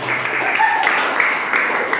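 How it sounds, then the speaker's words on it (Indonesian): Students clap together in a school gathering at SMPN 2 Rogojampi, Banyuwangi, giving a short burst of close, sustained applause that holds at an even level. "Oke, tepuk tangan."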